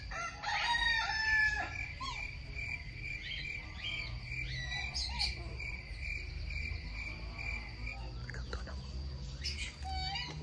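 A newly arrived rooster in an aviary crows with a long, clear call, accompanied by a hen's clucks and a constant backdrop of insect chirping, with faint low rumble underneath.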